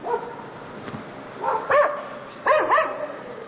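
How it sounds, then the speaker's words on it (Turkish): Stray street dogs in Göktürk bark and snarl in a scuffle, with two clustered bursts of sharp, close barks and yelps between quieter moments. "Sokak köpeklerinin kendi aralarındaki kavgaları bölgede yaşayanları da korkutuyor."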